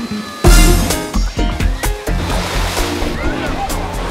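Loud splashing and sloshing water at a water park on a hot day, beginning with a big splash and followed by repeated churning surges, with people's voices mixed in.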